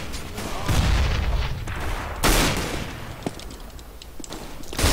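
Scout sniper rifle shots ring out in Counter-Strike: Global Offensive, a couple of loud sharp cracks amid scattered game gunfire and muffled background chatter.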